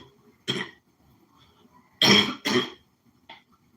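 Coughing from a person with a lingering rhinovirus cold: one short cough, then a pause and two loud, close coughs in quick succession, followed by a faint throat sound, with no talking.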